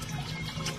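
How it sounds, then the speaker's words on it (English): Water drops and splashes steadily into a barrel sump of a backyard aquaponics system, a quiet continuous trickling patter with no voices. "The dropping water is oxygenating it,"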